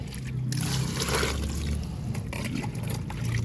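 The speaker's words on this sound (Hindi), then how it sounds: "उसके बाद इसमें पानी भर देती हूँ बाल्टी में" Water pouring into a bucket, a steady splashing gush that fills the space for a few seconds with a fairly loud, continuous wash.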